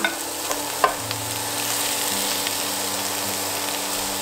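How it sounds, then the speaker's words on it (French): Large pre-cooked whole shrimp browning in a hot pan with leftovers, producing a constant sizzle with a few sharp clicks and taps of utensils near the start and a low hum underneath. "on les fait cuire, on les fait rissoler avec le reste"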